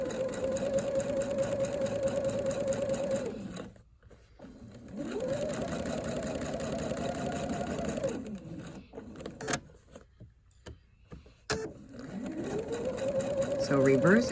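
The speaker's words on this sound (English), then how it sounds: "we're going to stitch directly on the line" A sewing machine stitches reverse appliqué on a quilt in several long steady runs, a loud close whirring hum that stops and restarts, with a voice speaking in the pauses.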